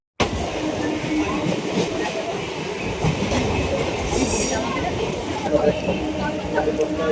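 A train runs on rails near Kolkata's riverside ghats, heard from on board as a steady rumbling roll with rhythmic wheel clatter and a brief high squeal, while passengers talk over the noise.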